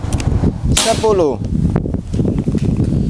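A Bocap FX 500 cc PCP air rifle fires a single sharp, whip-like shot, close and loud, over a noisy, voice-filled background.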